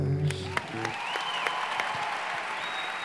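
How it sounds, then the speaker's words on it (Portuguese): A crowd gives a round of applause at a live music and history class session. Moderately loud, even clapping continues throughout, with a few sharp whistles and some voices over it. "Uma salva de palmas."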